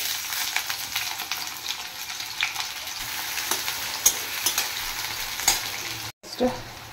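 Chopped onion and garlic fry in a pan with a steady crackling sizzle and occasional stirring scrapes, close and fairly loud, briefly cut off near the end before resuming.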